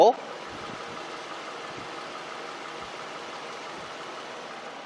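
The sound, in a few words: car engine idling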